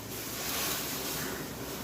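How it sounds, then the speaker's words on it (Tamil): Water poured into a cooking pan for an oil-free ivy gourd stir-fry, a steady broadband splashing hiss that holds for about two seconds without talk. "கொஞ்சமாக தண்ணி ஊற்றிக்க போகிறோம்."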